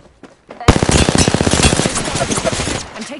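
A loud, rapid burst of automatic gunfire in Apex Legends erupts after a brief pause and hammers on for about two seconds before trailing off.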